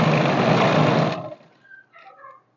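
Electric sewing machine running a straight stitch along a salwar seam, a steady dense whir for about a second before stopping abruptly, followed by faint mechanical clicks.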